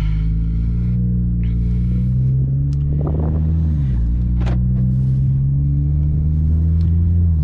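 A BMW 340i sedan's engine hums low and steady while driving in automatic mode as it warms up, rising briefly in pitch as it shifts, with a constant rumble throughout.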